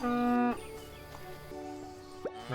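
Cows moo on a farm in the video game EverDream Valley, one long loud low moo up close, then fainter lowing calls with small game sounds.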